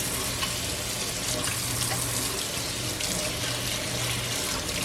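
A kitchen tap runs steadily while something is rinsed underneath, a constant hissing water stream close by and fairly loud throughout, with no talking.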